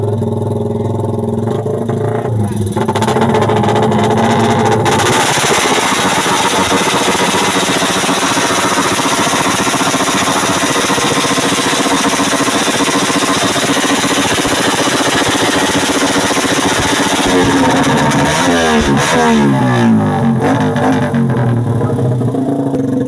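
A motorcycle engine runs loud and steady at a motor show in Alaminos, a constant rough drone with a revving swell near the end and no voices.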